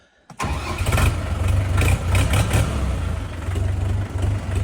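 A Scout TY-404 40-horsepower mini tractor's small diesel engine cranks and catches, then settles into a loud, steady rumbling idle close by with a few uneven pulses.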